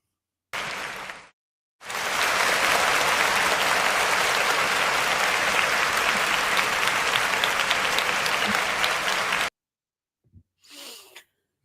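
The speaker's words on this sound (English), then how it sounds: "let's give a round of applause for the lates that's entering the child rearing game" Audience applause for expectant parents at a real-estate talk show, a dense burst of clapping lasting several seconds after a brief opening spatter, then cutting off into near silence with a faint stray noise.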